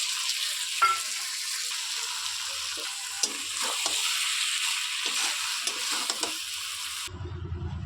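Taro stolon and shrimp curry with garam masala and cumin powder fries in a pan with a constant close hiss, while a spoon scrapes now and then with soft clicks; the sizzle cuts off abruptly near the end and there is no talking.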